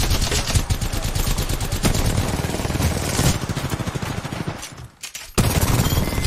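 Rapid automatic gunfire in Apex Legends, loud and dense bursts of shots with a brief drop in the firing before it resumes hard to the end.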